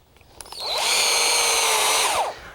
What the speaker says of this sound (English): we're going to drill a hole through the timber